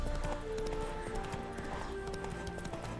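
A horse galloping in the Witcher 3 video game, rapid rhythmic hoofbeats under a tonal game soundtrack, steady and fairly close for a few seconds.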